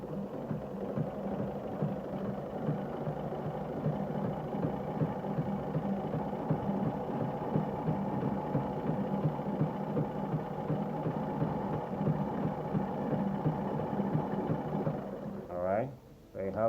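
A Seamstress model 8014/39 sewing machine runs stitch number 5 with a steady, even mechanical hum and rapid needle throb that stops abruptly near the end.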